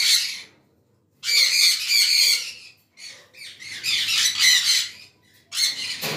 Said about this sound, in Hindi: ये सन कनोर है, हाई रेड कहते हैं इसे, और ये ब्रीडर पेयर्स हैं